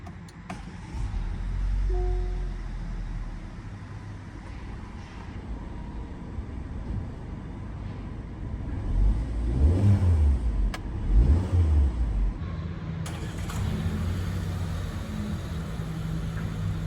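A 2023 Chery FX (Omoda 5) engine idles and revs in a couple of swells nearby, with a low rumble and faint cabin clicks throughout.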